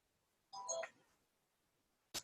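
A phone gives a short electronic ring or chime during a work call, a brief tonal burst, then a quick second blip after a pause.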